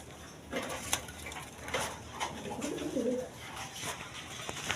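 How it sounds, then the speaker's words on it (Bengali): A male and female pair of Blackless Shirting pigeons coo in a few low, rolling phrases, close but fairly soft, over background rustling and light patter. "এইখানে এক পেয়ার ব্ল্যাকলেস শার্টিং কবুতর আছে"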